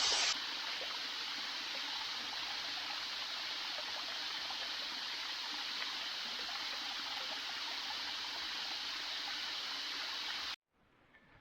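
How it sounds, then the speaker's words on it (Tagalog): A river stream flows near hidden waterfalls, a steady, broad rushing and gurgling of water that holds constant for about ten seconds before cutting out abruptly, with no speech. "Kita na yung ilog."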